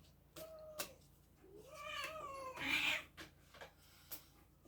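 A house cat meows several times in a row, with rising and falling cries that swell into a louder, strained wail partway through before trailing off into quieter sounds in a calm indoor room.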